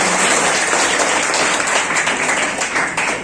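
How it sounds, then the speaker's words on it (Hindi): Loud, dense audience applause welcoming a teacher at a Teacher's Day school event, continuous steady clapping from many hands with no pauses. "तो जोरदार ताली से स्वागत किया जीतराम सर का"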